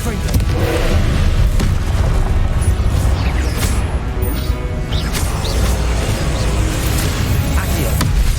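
A Confringo blasting spell explodes in the video game Hogwarts Legacy, a loud, sustained roar of booming, crashing impacts that fills the whole stretch without a break.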